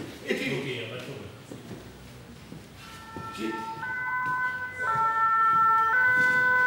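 Ambulance siren wailing in a staged emergency on a construction site, a steady two-tone wail that grows louder and nearer over the last few seconds, with people talking over it throughout.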